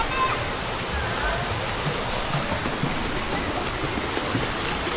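A river rushes past a campsite at Camp Pasong Santol as a steady, broadband wash of flowing water, continuous and fairly close, with no clear voices over it.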